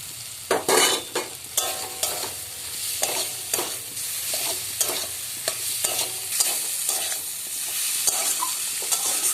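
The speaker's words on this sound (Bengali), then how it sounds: "মশলার সাথে আলুটাও একটু কষানো হয়ে গেছে" Fried potatoes sautéed in an oily spice mix for ghugni-style potato curry: repeated close scraping stirs over a steady sizzle, with a low hum under the first part, no speech.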